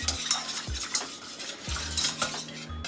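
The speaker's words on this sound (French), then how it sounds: "Et vous fouettez doucement pendant que la crème réépaissit." Vegan béchamel sauce gets whisked in a pan as it thickens, a steady close run of wet, quick scraping strokes against the metal, with a light sizzle and no talking.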